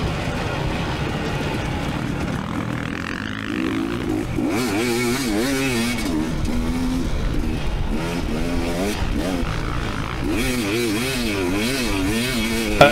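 A dirt bike tears through a sand hare scramble race, the engine revving up and down in rapid wavering surges, close and steady, with clattering from rough ground and a sharp knock at the very end.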